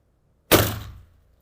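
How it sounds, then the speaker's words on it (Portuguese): A single 9mm Flobert round is fired from an Anschutz 1365 bolt-action rifle: after silence comes one sharp, fairly mild crack that fades quickly over about half a second. "Vamos fechar o ferrolho, o percussor arma ao fechar e disparamos."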